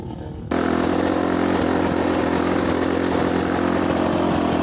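Motorcycle engine labouring in thin air at 4,500 m altitude in the Chilean Andes, kicking in abruptly and then running as a loud, steady, rough drone close to the rider, with no talk over it.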